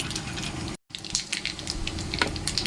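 Mustard seeds and a dried red chili hitting hot oil in a wok while making sour mango dal, giving a steady, close sizzle and crackle with small pops throughout and a brief dropout partway.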